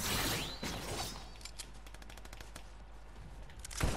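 Rapid bursts of automatic gunfire in Fortnite Chapter 4 Season 2 Zero Build mode, a dense string of sharp cracks through the middle with a louder blast near the end, no talking.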